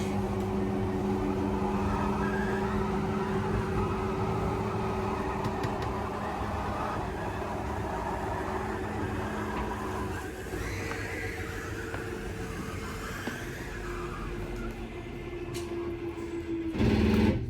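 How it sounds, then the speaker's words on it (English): A slide-out motor on a 2022 Forest River Lacrosse 3411 RK travel trailer extends the dinette slide with a steady mechanical hum and whir that holds for many seconds and ends in a short louder burst at the end. "once this slide's fully extended, we're gonna hear some clicks from the motors letting us know they've reached our stall"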